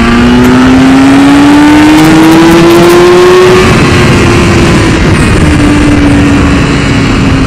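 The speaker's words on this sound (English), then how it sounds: "straighten up the bike, and throttle on." A 2015 BMW S 1000 RR sportbike engine revs hard as the throttle opens, a loud sustained whine climbing steadily in pitch and then holding high for several seconds, with no speech.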